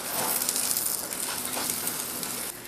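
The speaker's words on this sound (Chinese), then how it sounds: "乡村饼在煎盘里被煎到滋滋作响" Country pancake frying on a flat griddle at a Pingtung breakfast shop, a soft continuous sizzling hiss with slight bubbling, moderately quiet and without speech.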